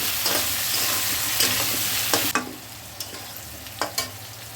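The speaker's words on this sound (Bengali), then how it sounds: "গাঠি কচুটা দিয়ে ভালো করে আমি ভেজে নেব।" Taro pieces with salt fry in a pan, a steady sizzle running throughout with several clear stirring scrapes and clicks, louder at first and then settling.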